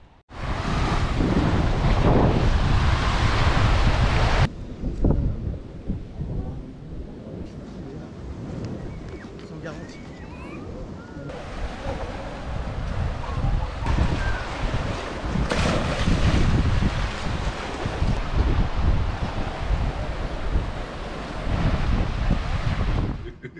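A beach at Calvi on Corsica, with waves and surf washing in under strong gusting wind buffeting the microphone, loud and close, easing briefly in the middle before building again.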